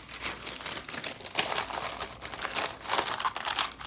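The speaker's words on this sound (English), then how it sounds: "I'm just gonna flip this out onto some parchment paper" Sourdough dough is flipped out onto parchment paper, giving a short burst of close crinkling and rustling paper sounds in irregular bursts, with no talking.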